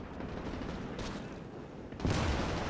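Gunfire crackles in a WW2 Battle of Saipan video game, a muffled distant rattle of shots that swells into a louder, nearer burst of fire near the end, with no speech.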